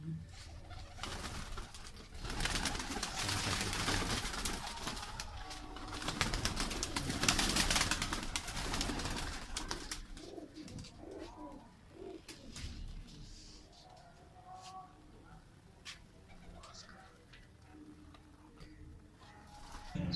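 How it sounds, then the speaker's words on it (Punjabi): Soft cooing and fluttering of racing pigeons on a rooftop amid rustling handling noise, with scattered ticks and clicks; louder at first, then quieter. "ਇਹ ਇਹਨਾਂ ਦਾ ਕਬੂਤਰ ਹੈ"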